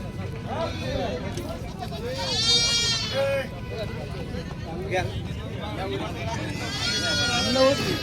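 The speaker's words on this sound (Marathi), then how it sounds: "बारक्या शेळीच्या पिल्याची आणि मेंढीच्या पिल्याची गाडी आलेली आहे" Kid goats and lambs bleat repeatedly nearby at a livestock market in Vasmat, Hingoli district, high wavering cries over a busy background of people talking.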